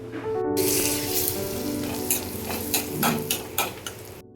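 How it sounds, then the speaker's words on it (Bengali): Whole cinnamon, green cardamom and cloves hit hot butter and oil with a loud, steady sizzle, broken by a few sharp spatters and crackles near the end, with no voice over it. "এর মধ্যে এখন আমি এই গোটা দারচিনি, ছোট এলাচ আর লবঙ্গ ফোড়ন দিয়ে দেবো"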